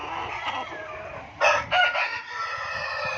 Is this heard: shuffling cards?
no